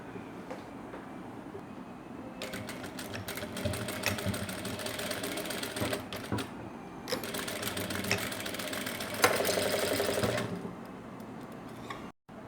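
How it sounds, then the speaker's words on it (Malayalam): A sewing machine stitches along the side of a fabric potli bag, running in long steady bursts of fast rattling clatter with brief pauses between runs, close and clear. "ഇനി നമ്മൾ ഇവിടെ സ്റ്റിച്ച് ചെയ്ത് വിട്ടൊരു പോർഷൻ ഉണ്ടല്ലോ, കണ്ടോ, ഈ സൈഡ്, ഇത് നമുക്കൊന്ന് സ്റ്റിച്ചിട്ടെടുക്കാം"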